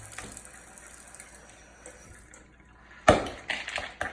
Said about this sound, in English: And then we run a little hot water,